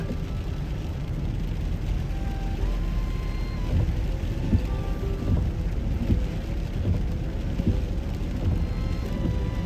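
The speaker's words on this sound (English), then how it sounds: "Sorry if the wipers are annoying, but I kind of have to have those on." Rain pours steadily onto a car driving through a park road in Bedford, Pennsylvania, with a constant hiss of drops and road noise while the windshield wipers run; the sound is continuous and close.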